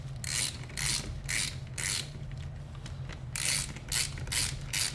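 A ratchet tightening the cam cap bolts on a 12-valve VR6 cylinder head, giving about eight rapid clicking bursts at an even pace, close and clear with no talking.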